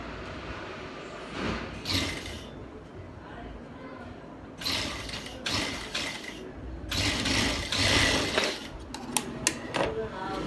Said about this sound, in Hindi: अभी ये हमने सिलाई कर ली है